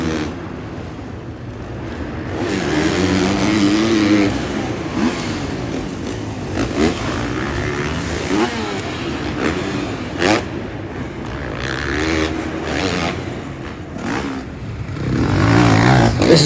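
Supercross dirt bikes race on a frigid day, their engines revving and droning at a distance over crowd and stadium noise.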